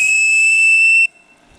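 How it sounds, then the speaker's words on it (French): Live steam whistle on a Der SeeKadett model launch boat, a single loud, shrill, steady toot lasting about a second before cutting off sharply, followed by quiet. "Le sifflet fonctionne? Oui."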